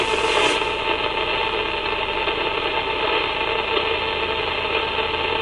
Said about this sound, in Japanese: でこれでまずエンジンだけかけてみます。